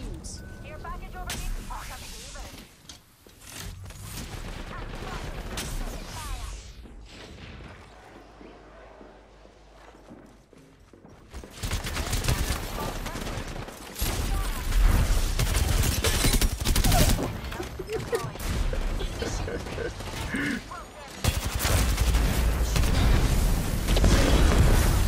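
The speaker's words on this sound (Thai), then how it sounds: "ผมรอยิงเปิด" Sustained bursts of weapon fire and booms in the Apex Legends shooter, loud volleys returning after a quieter stretch, while a player talks over the action.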